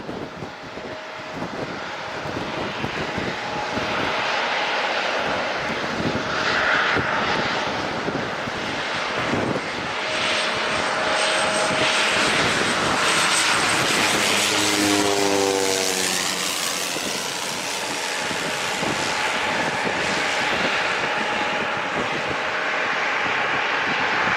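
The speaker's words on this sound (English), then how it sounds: "FedEx Feeder PCM 7684. It's a Cessna Super Cargo Master." A Cessna Super Cargo Master propeller plane on a FedEx feeder run passes at San Diego International with a loud, steady engine drone and wind rush. A falling buzz follows as it goes by.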